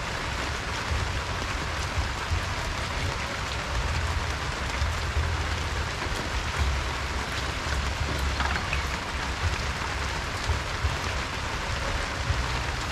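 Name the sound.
light drizzling rain in the countryside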